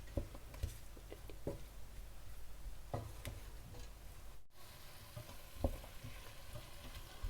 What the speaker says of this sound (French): Nous allons les laisser à feu doux, mijoter un petit peu pendant une dizaine de minutes